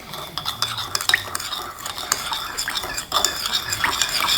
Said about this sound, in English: We stir together.